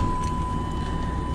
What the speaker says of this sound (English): and we crank up the old truck